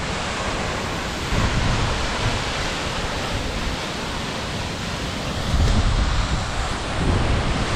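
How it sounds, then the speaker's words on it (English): Steady broadband rush of wind and falling water at a misty waterfall, loud and constant throughout with gusty surges buffeting the microphone, no voices. "there's some wind coming off this waterfall"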